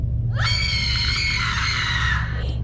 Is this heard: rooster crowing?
no